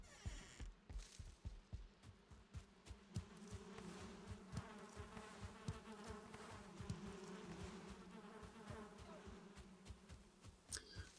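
Bees buzz steadily in the survival video game Valheim, a dense droning hum with a pulsing, throbbing texture that holds throughout, moderately loud and with no talking over it.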